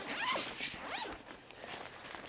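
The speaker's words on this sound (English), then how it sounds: "there's a million zippers." A zipper on an Incase A.R.C. travel backpack is pulled in two quick rasping strokes close up, followed by faint handling rustle.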